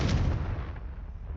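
A Confringo blast in Hogwarts Legacy booms out as a loud, close explosive burst that rolls into a long, fading rumble.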